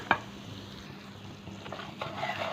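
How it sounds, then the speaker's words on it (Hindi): Semolina dry-roasting on low heat in a pan as a spoon stirs it, for grainy sooji halwa; a soft continuous scraping and faint sizzle with one sharp clink at the start and stirring swells near the end. "चम्मच हम इसको चलाएंगे ताकि लगे ना।"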